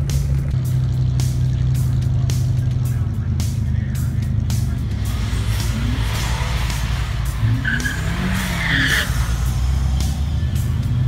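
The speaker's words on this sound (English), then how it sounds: "with the big old burnout" A Ford EcoBoost drag car does a tire burnout at a drag strip, with a loud, continuous engine roar, rapid rhythmic pulses and rising tire squeal, heard close over crowd noise and voices.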